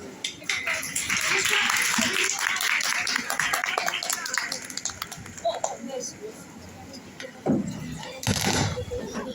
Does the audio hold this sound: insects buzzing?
no